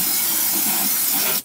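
A spray gun with an extension wand blasts Fluid Film lanolin undercoating onto and inside a car's frame rails, producing a loud, steady, close hiss that cuts off abruptly near the end, with no talking.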